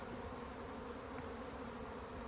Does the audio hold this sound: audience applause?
no